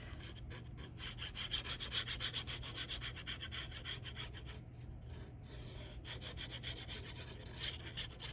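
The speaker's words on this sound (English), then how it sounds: "Go ahead and burnish." A tool burnishing glued cardstock, a faint, close rubbing scrape repeated in quick back-and-forth strokes with brief pauses between passes, alone without talk.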